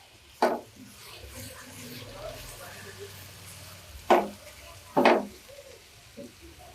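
Chicken chow mein with green onions is mixed in a pan, with three sharp scraping clacks of a utensil against the pan over a quiet sizzle, spaced irregularly.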